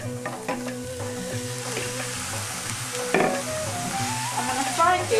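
Minced lamb fries with onions in butter and olive oil, a steady close sizzle with clinks and scrapes of stirring throughout, a brighter burst of crackle partway through.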